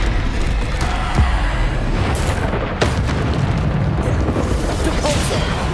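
A Descendo spell slams down in the video game Hogwarts Legacy amid a dense, continuous rumble of combat booms and bursts, with a sharper hit near the middle, loud throughout.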